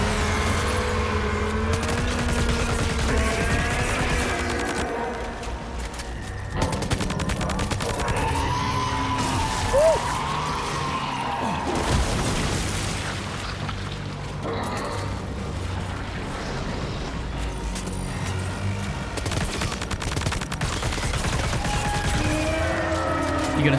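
A blood grenade going off in the video game Death Stranding 2, amid a continuous loud, dense barrage of gunfire and crashing game effects, with voices talking over the din.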